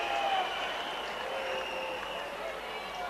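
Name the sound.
French rugby crowd booing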